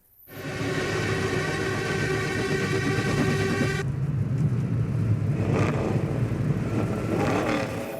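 A Volkswagen Beetle engine runs with a loud, continuous rumbling whir that holds steady throughout, close and dominant with no talk.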